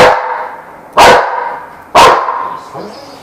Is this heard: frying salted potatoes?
no